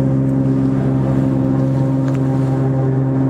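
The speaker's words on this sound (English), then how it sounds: "The engine's running at 350 horsepower." A 350-horsepower aircraft piston engine runs on G100UL unleaded fuel, slightly rich of peak, giving a loud, steady, droning hum with strong low tones and no change in pitch, heard close and alone.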